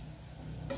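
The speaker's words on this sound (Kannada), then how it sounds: "ಒಂದು ಸಿಮ್ಮಲ್ಲಿ ನೀವು 2 ರಿಂದ 3 ನಿಮಿಷ ಇದನ್ನು ಫ್ರೈ ಮಾಡಬೇಕು." Eggs fry with masala in a pan, a soft steady sizzle with faint stirring, brightening into a louder hiss near the end.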